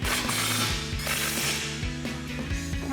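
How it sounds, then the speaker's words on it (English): An impact wrench fitted with an 18mm socket drives nuts tight while front upper control arms are installed on a Ford F-150; a steady loud mechanical rattle with a few brief pauses between bursts, no talk. "That's gonna be our impact and 18mm socket."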